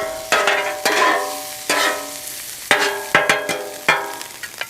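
Cheesesteak meat cooked on a Blackstone 28-inch folding-leg griddle: a spatula strikes and scrapes the hot metal in sharp, repeated clanks a second or so apart, with a faint sizzle beneath, close and without talk.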